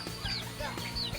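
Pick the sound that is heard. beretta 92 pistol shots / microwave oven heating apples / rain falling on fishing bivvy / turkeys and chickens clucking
turkeys and chickens clucking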